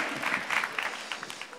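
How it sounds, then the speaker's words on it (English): A dance competition audience applauds the performers in a short, fairly quiet burst of steady clapping. "Give them a nice round of applause."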